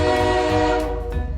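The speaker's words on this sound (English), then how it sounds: "It is a train." A train horn blares loud and sustained as a rail vehicle passes, the tone steady then easing slightly toward the end, with low rumble underneath and no speech.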